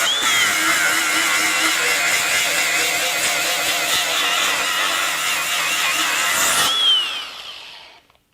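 A DeWalt FlexVolt Advantage DCG416 angle grinder runs at a steady high whine, loud and close, for several seconds before spinning down and falling quiet, with no voices.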